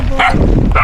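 A large dog barks twice outdoors along a rural dike road where livestock graze; the barks are loud, close and roughly half a second apart, with no talk over them.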